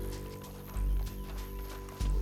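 Horse hooves clopping while riding in the video game Red Dead Redemption 2, a quick run of soft thuds with two heavier bursts near the start and end, over a low steady hum.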